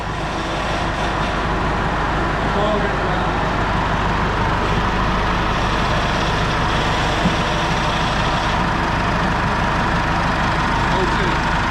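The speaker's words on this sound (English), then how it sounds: "That's bleeding the power steering up now." A Land Rover campervan engine runs steadily while its power steering is being bled, producing a loud, close, continuous idling drone with a heavy low rumble that holds even for the whole stretch.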